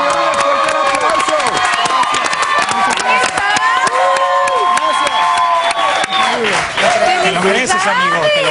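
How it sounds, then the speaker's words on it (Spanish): A television studio audience applauds and cheers loudly and continuously, a dense crowd roar with shouts and whistles throughout, loud voices joining in. "¡Fuerte el aplauso!"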